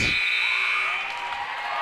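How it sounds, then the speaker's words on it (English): A loud, sustained electronic buzzer ends a basketball game, blaring over crowd noise in a gym and holding its tone for nearly two seconds. "As the buzzer sounds, and this game is over"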